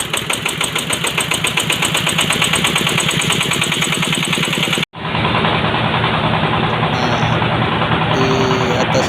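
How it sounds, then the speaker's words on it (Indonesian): Plastic shredder machine being started to chop plastic cups and bottles, a loud rhythmic engine chug that cuts out briefly, then resumes as a steady mechanical roar with occasional high whines. "salah satu karyawan sedang menghidupkan mesin pencacah"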